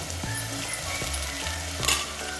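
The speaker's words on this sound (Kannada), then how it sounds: "ಹಾಕಿ ಎಲ್ಲ ಕ್ಲೀನಾಗಿ ತಿರುಗಿಸ್ತೀನಿ" Vegetables and tomato stirred in a hot frying pan while cooking hotel-style upma, with steady close sizzling and a few soft scraping stirs of a spoon against the pan.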